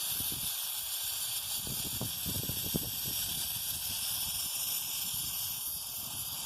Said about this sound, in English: once the tank empties, you can tell by now the sound has changed